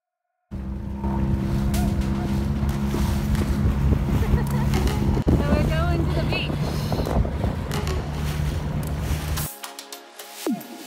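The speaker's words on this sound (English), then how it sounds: "we all got in our dinghies and headed to the beach for a catch up and swim." A small dinghy outboard motor drones steadily while heading to a beach in the Spanish Virgin Islands, loud and close with wind buffeting the microphone, and voices talking over the engine.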